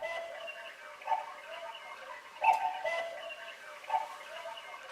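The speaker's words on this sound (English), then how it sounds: "And it's a cuckoo clock." A handcrafted cuckoo clock ticks quietly and up close, with faint mechanical clicks and a few louder metallic knocks spaced irregularly over a few seconds.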